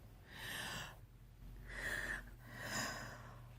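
Three deep, ragged breaths follow one another in a slow rhythm: strained, gasping inhales and exhales with a hoarse, airy rasp, close and alone, with brief pauses between them.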